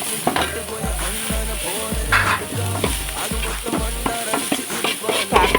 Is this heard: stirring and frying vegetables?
yes